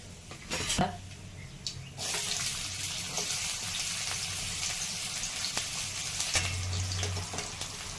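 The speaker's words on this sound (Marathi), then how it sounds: "लसूण मिरची अद्रक हे कुटून घेतलेला आहे मोहरी आणि जिरे टाकून घेतलेलं आहे तेलामध्ये" Mustard seeds and cumin frying in hot oil with crushed garlic, chili and ginger, a close, steady sizzle and crackle with a couple of sharp clinks near the start.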